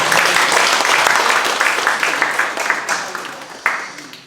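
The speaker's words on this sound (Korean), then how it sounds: "박수 한번" An audience at a book launch talk concert applauds, a dense burst of clapping that starts loud and gradually thins and fades over about four seconds, with a few scattered late claps.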